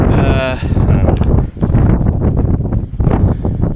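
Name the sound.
strong wind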